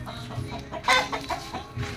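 A hen clucking in short, close bursts, with a louder squawk in the middle and quieter clucks around it.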